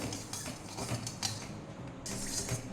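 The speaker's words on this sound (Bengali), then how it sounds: "তো চিনিটা যতক্ষণ না গলছে একটু নেড়ে নিতে হবে" Sugar stirred in a pan until it melts, with a spoon scraping and clinking against the metal in soft, irregular strokes over a low background hum.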